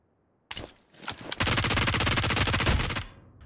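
Rapid automatic gunfire in a shooter video game: a brief opening burst, a short pause, then a long sustained volley of loud, closely spaced shots that cuts off abruptly.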